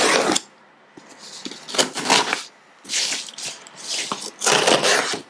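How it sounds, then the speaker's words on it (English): An Amazon cardboard shipping box holding a paper planner is opened by hand, with several loud bursts of scraping, rustling and tearing cardboard separated by short quiet gaps. "sorry for the noise while we open up the box."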